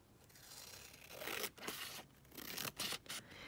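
Paper being cut for envelope pockets, a run of close, crisp snipping and tearing strokes in irregular bursts over quiet room tone, no talking.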